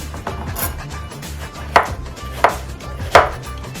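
Three crisp knife strokes cut through peeled melon on a board, evenly spaced and close, with soft background hum and no talking.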